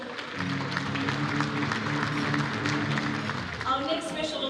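Applause at an awards ceremony honouring a representative receiving an award, a dense wash of clapping that runs for several seconds, with a musical fanfare and some voices mixed in underneath.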